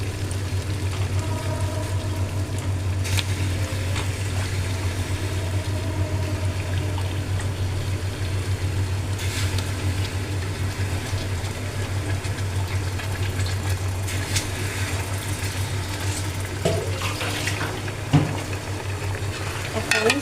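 Meat stirred and fried in a spice paste for a meat and vegetable khichuri, with a continuous sizzling hiss, a low hum beneath and occasional scrapes and knocks of a spoon against the pot.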